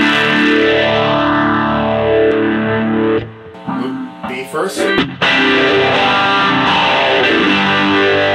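Electric guitar through a ToadWorks Roundabout reversible looper with distortion placed before modulation, a loud sustained distorted tone sweeping in a swirling, phased pattern, briefly interrupted by choppy picked notes before the swirling wash returns.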